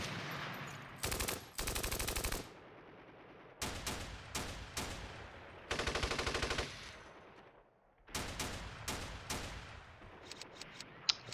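Gunfire in the war video game Steel Panthers, set in the Iran-Iraq war of 1980: loud bursts of machine-gun fire arrive in several separate volleys, with sharp single shots between them and short quiet gaps.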